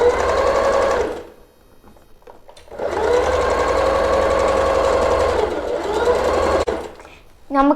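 A Juki HZL-27Z sewing machine set to a straight stitch runs in three bursts of rapid, even mechanical whirring, close and loud, with brief quiet pauses between runs.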